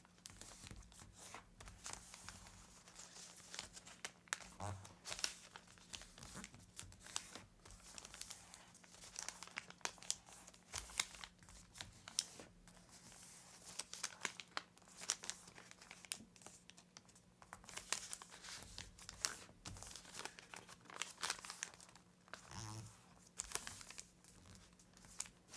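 Paper is creased and pleated into fine divisions for an origami model, producing a continuous run of soft, close crinkles and crisp folding rustles over a faint steady hum, with no talking.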